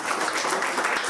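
French stage audience applauding a performer named Florian, a brief burst of dense, even clapping heard close and at moderate volume.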